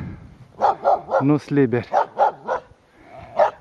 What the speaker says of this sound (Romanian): Avem și câini, dar sunt legați,